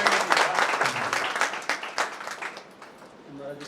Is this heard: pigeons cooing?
no